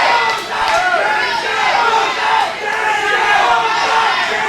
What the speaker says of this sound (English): You can hear them screaming at the top of their lungs.